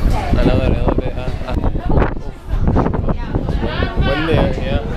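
Strong wind gusts buffet the microphone at a mountain summit outdoors, roaring in uneven bursts while people talk over it.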